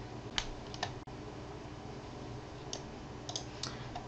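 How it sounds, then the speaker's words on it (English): A computer mouse button gives a few soft, quick clicks, including a close pair, over a quiet background hum with no speech. "double click on the main view"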